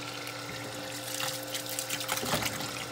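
A 1996 Whirlpool Direct Drive washing machine fills with water, a steady rushing trickle into the tub over a constant mechanical hum, close and continuous without any voices.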